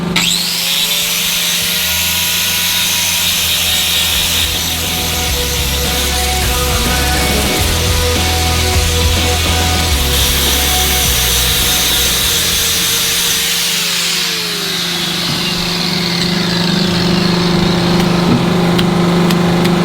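Power tool grinding and cutting through a dairy cow's hoof during trimming, a steady loud motor whine with rasping wood-like abrasion running continuously throughout, no talk.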